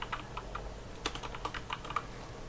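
Quiet, irregular clicking of keys on a computer keyboard during CATIA software work, a steady run of separate taps with short pauses and no voices.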